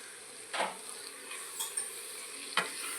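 Onion curry (ulli theeyal) sautéing in a pan under a steady sizzle, with three distinct scrapes of a stirring spoon spaced across the clip, close and fairly loud.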